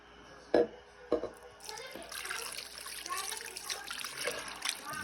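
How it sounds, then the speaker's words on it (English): Two short knocks, then water pours and splashes steadily into a crock pot for several seconds, fairly close and moderately quiet. "put the water in there"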